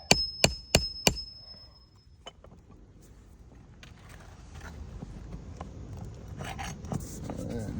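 A hammer taps at nails in roof shingles to loosen them, four sharp, close knocks in quick succession at the start, followed by faint scraping and rustling as work continues.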